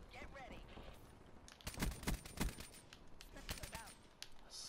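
Gunfire in a shooter video game: a few sharp, loud bursts of shots clustered in the middle of the clip, with scattered quieter clicks and a voice talking around them.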